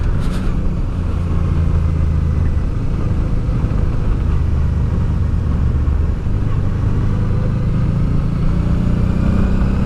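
A motorcycle engine drones steadily on the descent of the Col de l'Iseran mountain road, loud and close with heavy wind rumble and shifting engine pitch throughout.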